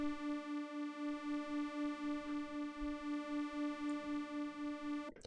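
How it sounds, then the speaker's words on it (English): A sustained synth pad with a bright, steady harmonic tone, its level swelling and dipping in a regular rhythm as the Pancake 2 auto-panner sweeps the mid signal, ending in a brief noisy cutoff. "the thing that we can do here is to take a auto panner, for instance Pancake 2"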